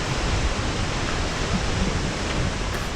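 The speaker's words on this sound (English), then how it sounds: "at the foot of the Sepiso waterfall, getting a massive splash" Sepiso waterfall in northern landscape, heard from its foot: a loud, steady broadband roar of crashing, splashing water fills the scene throughout, with no voices.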